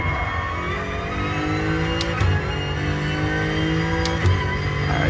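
Racing car engine in Gran Turismo Sport during a 15-minute endurance race, droning loudly and continuously as it accelerates, with rising tones and short shift breaks between gears.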